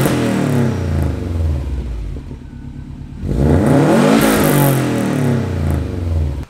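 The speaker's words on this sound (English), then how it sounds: "Beautiful COBB exhaust." A 2007 Subaru STI fitted with a Cobb titanium cat-back exhaust revs hard and close, rising to a loud burst, dropping briefly to idle, then revving up again with a raspy, throaty tone.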